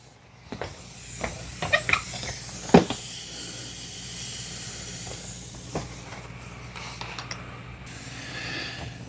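A Shark steam mop releases a soft, continuous hiss of steam from its base, steady and faint, broken by a few sharp clicks and knocks near the start.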